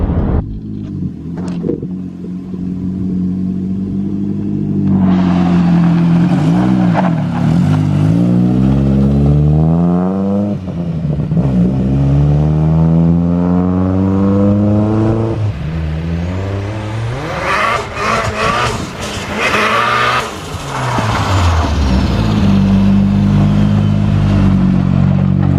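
A Nissan 180sx with a stroked SR20 engine, freshly mapped, revving hard while driving: loud repeated climbs in engine pitch through several gears, with rough clattering intake and exhaust noise close by and no voices.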